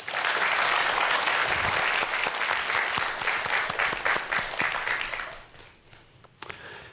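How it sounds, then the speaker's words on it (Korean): Audience at a youth entrepreneurship talk giving a big round of applause, a loud continuous wash of clapping that gradually thins and trails off at the end. "여러분들 큰 박수 부탁드립니다."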